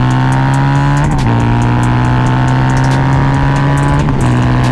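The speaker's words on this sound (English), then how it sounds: "this bike gets gets up and moves" A Harley-Davidson V-Rod Muscle cruiser pulling hard under full acceleration, a loud, close, sustained engine roar climbing in pitch, broken by two quick gear shifts.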